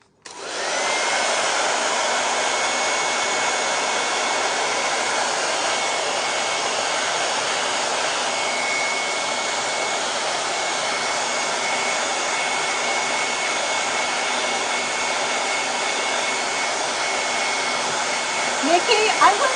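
A hair dryer runs steadily for nearly the whole stretch, drying a two-part crackle finish over decoupage, with a loud, even airy roar after a brief start and no talking.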